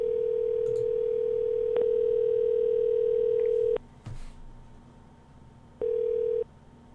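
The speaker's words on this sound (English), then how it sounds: "I'm gonna dial up right now." A phone dialing a call gives a loud, steady electronic tone that holds for several seconds and cuts off, then returns briefly after a pause, with a soft click between. No one speaks.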